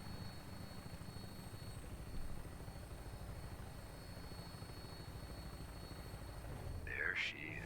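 An aircraft in the Fallout 4 video game, a steady low droning rotor and engine rumble holding throughout at moderate level, with a brief sharp higher tone near the end.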